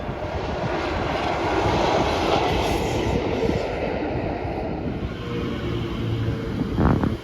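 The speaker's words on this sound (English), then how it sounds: "Then the Class 33 33012 Lieutenant Jenny Lewis RN came through." British Rail Class 33 diesel locomotive 33012, Lieutenant Jenny Lewis RN, hauls a sleeper coach past with a loud, steady engine roar and wheel rumble that hold throughout, swelling slightly near the end.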